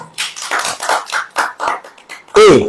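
A church congregation claps its hands in a quick, steady rhythm of repeated bursts, and a voice breaks in briefly at the very end.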